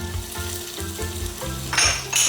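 Onions with red and green peppers sizzle in a pan of salted butter and a touch of oil, a steady close frying hiss with low stirring knocks and a louder crackle near the end.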